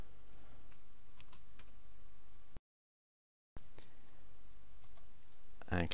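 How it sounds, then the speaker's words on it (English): A username and password are typed on a computer keyboard to log in to a WordPress blog. Quick, light keystroke clicks sound over steady background hiss, with a brief silent gap midway. "log in with my new username and the new password."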